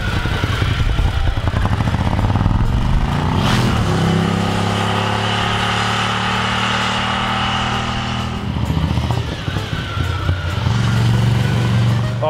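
A Ducati Scrambler Café Racer motorcycle engine drones steadily while riding in Tuscany, with the pitch shifting as it revs and settles, close and fairly loud throughout.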